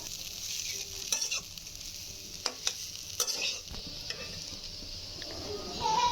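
Spiced chicken roll filling is stirred in a hot pan, a steady soft sizzle with sharp spoon-on-pan scrapes and taps at irregular intervals, close and moderately loud.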